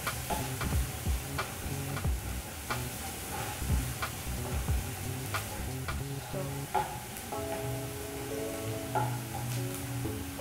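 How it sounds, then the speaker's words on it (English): Garlic sizzles in a pan on its own after translucent onions, a quiet, steady fry punctuated by regular clicking scrapes from a spoon stirring, with no one talking. "we will add our garlic. Then stir for about"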